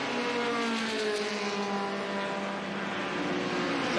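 Vintage race cars, including a Ford Capri and a Mazda RX-7, lap the Mid-Ohio circuit with a continuous, moderately distant engine drone that rises and falls slightly as they pass.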